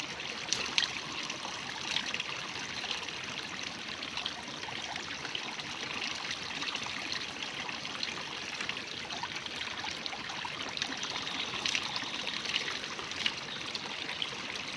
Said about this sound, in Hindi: ये है कश्मीर का ठंडा खूबसूरत चश्मा और ये मेरे घर के बिल्कुल करीब